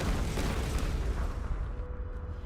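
Gas tank blowing up in Tomb Raider Definitive Edition, a loud deep boom that rolls out into a rumbling decay and fades over about two seconds.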